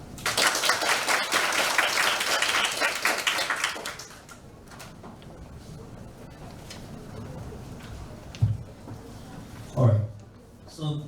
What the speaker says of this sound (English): Let's clap to welcome them